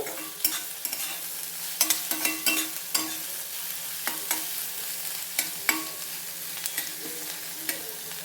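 Onions frying with salt in a pan hiss steadily, broken by frequent sharp spoon scrapes and taps against the metal as they are stirred, close and fairly loud.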